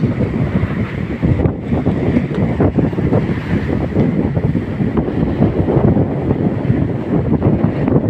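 Large sea waves churned up by a typhoon roll and crash continuously while strong wind buffets the microphone, a loud, unbroken roar with no voices.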